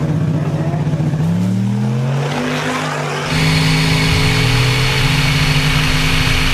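A turbocharged V8 Nissan Hardbody pickup truck accelerating on a street, loud close engine rising in pitch through gear changes, dipping briefly at a shift before pulling hard again with a roaring, droning tone.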